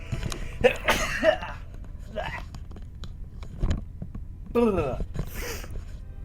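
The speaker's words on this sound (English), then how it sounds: "I'm gonna quickly go and sneeze." A couple of sharp sneezes burst out with breathy gasps between them, close and loud, over a quiet background.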